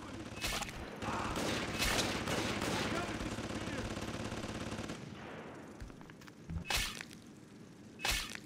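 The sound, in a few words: turret gunfire in video game BioShock 2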